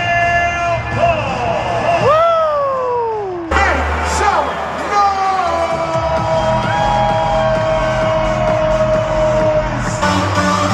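Artificial crowd noise piped into the Amway Center arena at an Orlando Magic game, a loud continuous wash of cheering and whoops layered with sliding tones and music-like sounds from the arena speakers.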